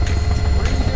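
Helicopter flying in the video game Garry's Mod, a loud steady low rotor drone with engine rumble running throughout, and no talk in the clip.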